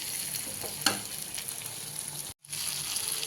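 Okra frying in a pan for tamarind curry: a steady, fairly quiet hiss of sizzling oil, with a light stirring clatter near the start and a brief dropout later.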